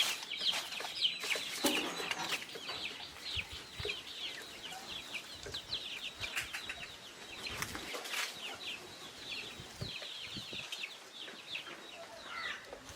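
Chickens and young chicks clucking and cheeping inside a coop, a steady overlapping chorus of calls with occasional louder squawks and a brief flutter of wings throughout.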